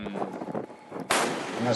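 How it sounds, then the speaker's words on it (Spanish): Gunfire near a ship, heard as a sudden loud burst that starts partway through, over rumbling background noise, with indistinct talk before it. "y comienzan a los tiros."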